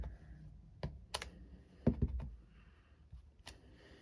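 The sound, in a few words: rubber stamp stamping onto cardstock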